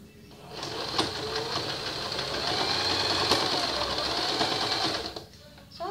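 A sewing machine runs steadily for several seconds while stitching a small fabric dog shirt, a close, even mechanical whir that starts and stops cleanly.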